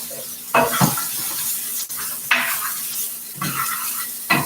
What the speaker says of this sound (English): As I saute the vegetables, I am going to put a little bit of seasoning